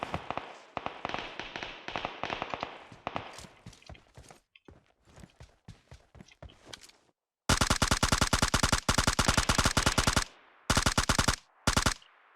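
Gunfire in the mobile shooter PUBG Mobile crackles in loud, rapid automatic bursts, first a scattered stretch of shots, then dense sustained volleys broken by short pauses, with no voices over it.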